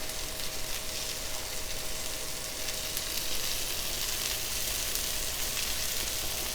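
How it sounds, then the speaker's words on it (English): Italian sausage searing on an indoor Cinder smart grill, giving a steady, close, continuous sizzle and fry hiss with a faint tonal hum throughout and no talk. "Nice and juicy, all that juice coming out."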